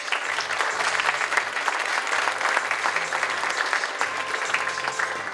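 A crowd at the 2024 Nagano Marathon opening ceremony applauds to welcome the invited women runners and guest runners. The clapping is dense and steady, and it stays at an even loudness through the whole stretch.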